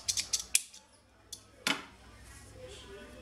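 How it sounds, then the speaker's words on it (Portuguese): Scissors snip off excess sewing threads on a finished blouse, several quick close snips in a cluster, then a pause and one more cut, crisp against a quiet room. "Só cortar as linhas que estão excedentes"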